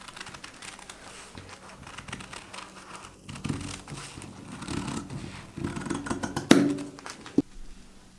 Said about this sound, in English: Cut out the petals along the template.